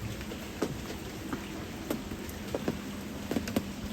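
Rain falling at a boat camp on a desert island, a soft steady patter with scattered drops tapping nearby surfaces in short irregular ticks.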